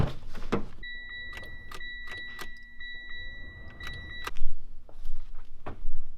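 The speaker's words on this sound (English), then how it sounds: "I don't know what we unplugged, but it won't even crank over." Car keys jangle and click in the ignition as someone tries to start a car with an unplugged starter wire; no crank follows, only a steady electrical hum and a chime tone, with a few thumps.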